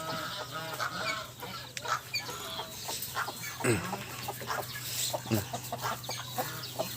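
Chickens cluck repeatedly near a cow pen on a cold morning, irregular close calls with scattered bird sounds over a low steady hum.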